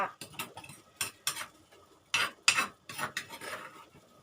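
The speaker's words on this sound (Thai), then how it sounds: "ใส่ลงไปในหม้อเลย คนๆ นะคะ" A utensil stirs chili paste, made with shrimp paste and fermented fish, into a pot of boiling water, giving irregular metallic scrapes and clinks against the pot, close and fairly quiet, with no talking.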